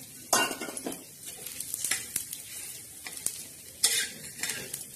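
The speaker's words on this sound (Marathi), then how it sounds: "त्याच्यात थोडंसं तेल टाकून आपण हे खोबरं टाकणार आहोत, खोबरं भाजत आहोत" Dry coconut roasting in a little oil in a pan, sizzling and frying steadily while a spoon stirs and scrapes against the pan in several sharp bursts, close and fairly quiet with no talking.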